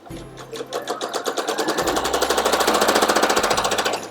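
Sewing machine stitching quilt seams, a loud, close rapid mechanical chatter that starts slower and speeds into a fast, even needle rhythm, running continuously with a brief hitch partway, no voices.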